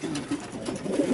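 A racing pigeon at a pigeon fair exhibition gives soft, low, repeated coos close by, with light background murmur.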